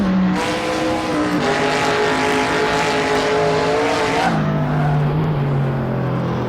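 An American muscle car engine in a video game roars loudly and steadily, revving high as the clutch is slipped, then dropping to a lower droning pitch, close and continuous throughout.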